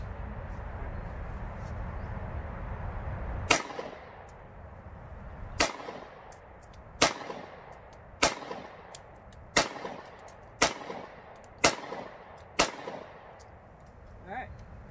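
A Bersa BP9CC 9mm pistol fires seven or eight sharp, loud single shots at a loose, roughly even pace, each crack followed by a short echo, after several seconds of low rumbling background noise.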